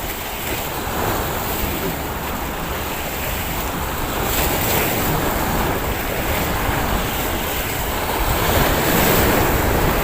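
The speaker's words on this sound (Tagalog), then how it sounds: "Ito, kumukulo ang dagat sa alon." Rough sea surf pounding the shore during a fishing outing, a continuous loud roar of breaking waves with steady wind buffeting the microphone, no voices.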